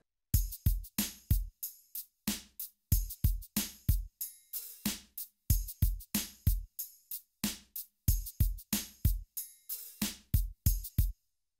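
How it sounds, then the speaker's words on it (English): A Korg Triton drum rhythm plays with a cabasa sound: a steady, looping pattern of crisp shaken hits with short decays, backed by low thumps, clean and alone. "So now I will show you the Cabasa sound in the drum rhythm."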